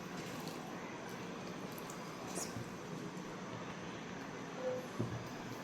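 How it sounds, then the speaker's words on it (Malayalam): Trains rolling past at a distance make a steady, broad rumble that runs throughout with no voices, swelling slightly near the end. "കുറേ ട്രെയിൻ പോകുന്നുണ്ട്"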